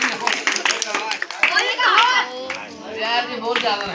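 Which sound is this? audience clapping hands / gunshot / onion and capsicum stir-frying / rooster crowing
audience clapping hands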